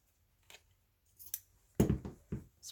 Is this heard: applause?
no